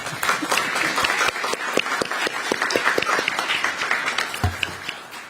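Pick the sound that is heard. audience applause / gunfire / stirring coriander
audience applause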